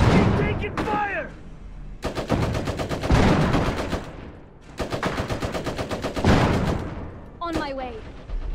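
Machine gun fire in the strategy game Iron Harvest, loud rapid bursts of rattling shots in two long volleys, with voiced unit callouts heard before and after.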